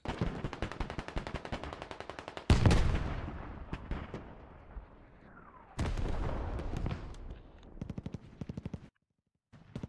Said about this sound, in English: Here comes the Ukrainian artillery, though.